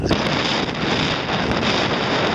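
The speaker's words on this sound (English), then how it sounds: "It is windy." Strong wind buffets a camera microphone outdoors in an open field, a steady loud rumbling roar with gusty fluctuations throughout and no other sounds breaking through.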